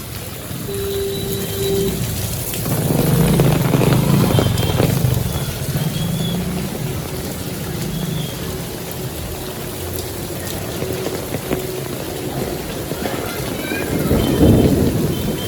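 Heavy midday downpour on a city street in Surat, India, with a steady loud rain hiss and deep thunder rumbles swelling around the middle and again near the end.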